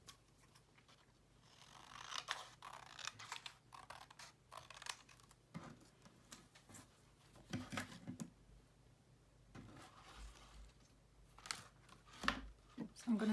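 Scissors snip through ribbon for a vintage roses gift box, giving a few quiet, close clipping and rustling sounds spread unevenly over a soft background.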